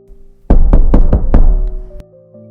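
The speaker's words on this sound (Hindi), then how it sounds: "तभी दरवाजे पर जोरदार दस्तक हुई।" Loud knocking on a door as a sound effect, five heavy thumping raps in quick succession followed by a lone final knock, with a low eerie tone lingering underneath.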